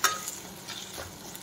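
Tempering of cumin and salt fries in a pan for a drumstick and egg tamarind curry, giving a quiet, brief sizzle with a few soft stirring scrapes and no voices.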